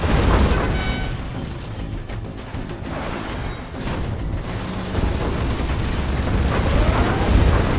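A continuous roar of heavy rumbling Scud Storm missile strike explosions and blasts in Command & Conquer: Generals Zero Hour, loud and dense for several seconds without pause, no voices.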